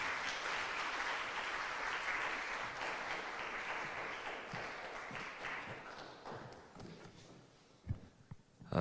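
An audience applauds for Katri at a university orientation event, the clapping dense at first and then thinning out into scattered claps and a few thumps near the end.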